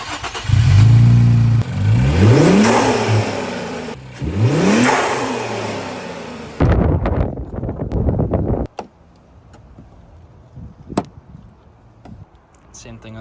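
Nissan VR30 engine fitted with aftermarket intakes, heard in two sharp revs that rise and fall, then a fade to idle. A short burst of noise follows, then quieter clicks and handling sounds.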